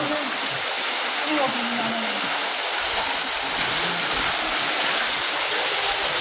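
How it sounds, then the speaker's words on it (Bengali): A waterfall at Eco Park in Cherrapunji, tumbling down from a hill, roars as a steady, dense wash of rushing water throughout, loud and continuous with no break. "এটা একটা ঝর্ণা"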